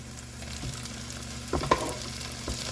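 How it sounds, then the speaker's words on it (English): Gnocchi tossed into a pan with chicken sausage sizzles quietly and steadily, with a couple of brief stirring clacks near the end. "now we're going to go ahead and put in that gnocchi"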